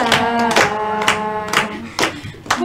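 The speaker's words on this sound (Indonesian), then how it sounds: "Tepuk tangan yang lain, tepuk tangan" A classroom group claps hands in a steady, evenly spaced beat, about two claps a second, under voices chanting along.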